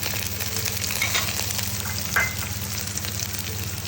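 Chopped onions, garlic and green chilies with fenugreek sizzle in a pan for fish kuzhambu, a loud, continuous close frying hiss with occasional stirring scrapes.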